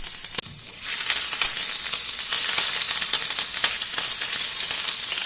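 Ginger garlic paste sizzles steadily in hot oil with spluttering fenugreek seeds, a continuous close crackling hiss with small pops and light stirring, no voices.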